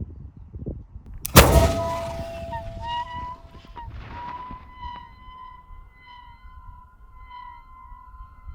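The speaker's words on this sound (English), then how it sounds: "And then we fired it again. This was a huge bang." A black-powder bowling ball cannon fires one huge, sharp boom that rings out and fades, followed by quiet outdoor air with faint, distant honking tones.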